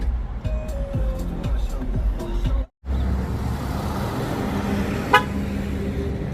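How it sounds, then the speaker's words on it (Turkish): Street traffic rumbles throughout, with several short horn toots early on and a single sharp chirp near the end as a Ford Transit pickup's horn confirms the double lock. "Çift kitlemede kornamız."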